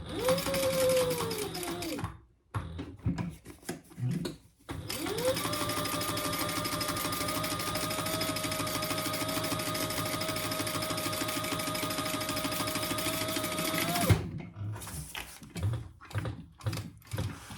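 A home sewing machine topstitches fabric for a crossbody bag, whirring steadily and close in one long run of about ten seconds, with shorter starts before and after.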